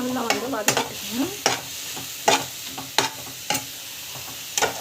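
Onions with ginger-garlic paste are sautéed in a frying pan, a soft steady sizzle broken by regular scraping stirs of the spoon against the pan.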